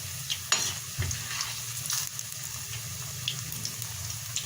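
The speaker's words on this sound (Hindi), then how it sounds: "पकोड़े फ्राई हो जाएंगे सारे" Vegetable pakoras deep frying in hot oil give a steady close sizzle and bubbling, with a few sharp clinks and stirring knocks early on and no voices.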